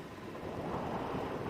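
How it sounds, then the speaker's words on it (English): Steady wind buffeting the microphone during an early-morning safari game drive, a continuous low rumbling roar with no other clear sounds. "it's a bit windy"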